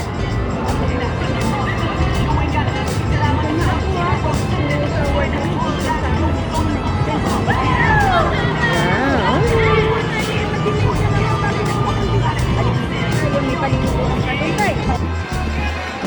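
A crowd gathers on a Melbourne street, a dense babble of many voices chatting at once, with a few nearer voices and distant traffic underneath throughout.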